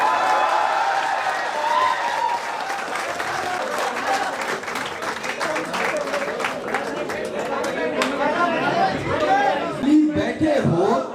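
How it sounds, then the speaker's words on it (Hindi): Sustained audience applause for poet Zubair Ali Tabish at a mushaira, dense clapping from a large crowd with chatter mixed in, steady and fairly loud throughout. "तालियां रुकनी नहीं रहनी चाहिए जुबैर भाई के लिए"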